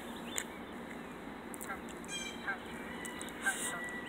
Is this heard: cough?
no